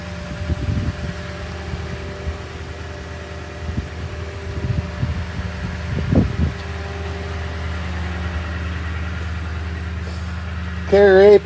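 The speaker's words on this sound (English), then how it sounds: "Carrier APU is doing good." A Carrier auxiliary power unit on a truck runs with a steady mechanical hum and constant low drone throughout, with some thumps and rustling in the foreground and a brief whine near the end.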